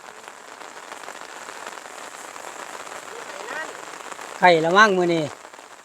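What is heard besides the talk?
rain falling all day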